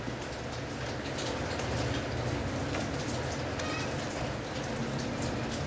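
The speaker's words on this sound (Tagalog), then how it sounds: "Grabe, lakas ng ulan dito sa amin." Steady, dense rain pouring down without a break, a broad continuous hiss with pattering on surfaces throughout.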